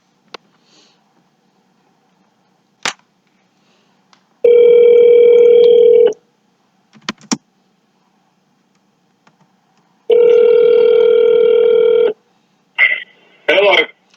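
A phone dialing session for calling life insurance leads: scattered clicks and dial tones, then two long electronic ring tones separated by a pause, followed by short tone bursts, all close and clear.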